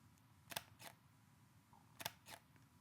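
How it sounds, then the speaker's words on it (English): Two soft, dampened shutter clicks from a Leica M10 Monochrom camera, each a quick pair of muted snaps, close and quiet in a still room. "It's a dampened shutter and it is extremely quiet"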